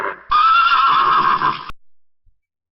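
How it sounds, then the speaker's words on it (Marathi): A horse gives one long, loud whinny lasting over a second, high and quavering, preceded by a short lower snort and followed by silence. "घोडा खिंकाळतो."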